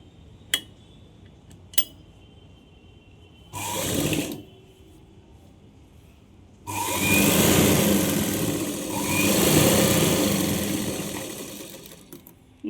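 A sewing machine stitching a straight seam on a baby's umbrella frock, with a couple of sharp clicks, a short whirring run, then a longer steady motor hum that rises and falls, close with no talk.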